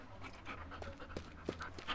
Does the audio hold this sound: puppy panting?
yes